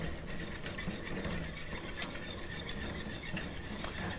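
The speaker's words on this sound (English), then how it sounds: "now we're going to whisk it until it gets creamy" A whisk scrapes and swirls through brown rice flour gravy in a pot. The sound is a continuous, close rasping stir with faint clicks against the metal, and no one speaks.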